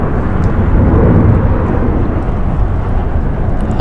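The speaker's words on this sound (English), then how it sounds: "taking off here. Spirit Airlines going to EWR. It's an Airbus A320, 10 years old." A ten-year-old Spirit Airlines Airbus A320 takes off at LAX, its engines producing a loud, deep, continuous roar with broadband rumble that holds steady throughout, no voices.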